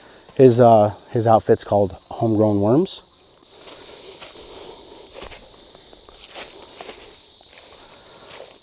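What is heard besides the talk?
cicadas buzzing loudly in Arkansas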